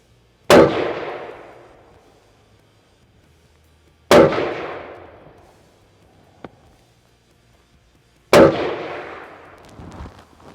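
Three loud, sharp rifle shots from a POF P415 Edge AR-15 at a range, evenly spaced about four seconds apart, each ringing out with a short decaying echo, with quiet pauses in between.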